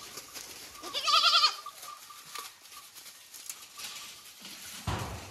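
An Osmanabadi goat or kid in a herd gives one short, fairly quiet bleat early on, followed by light patter and shuffling.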